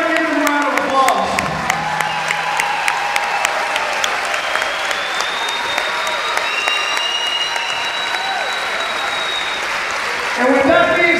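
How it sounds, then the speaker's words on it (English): A wrestling-event crowd breaks into loud applause and cheering, dense clapping with whoops rising over it, steady for several seconds before fading as a voice returns near the end. "everybody give them a round of applause"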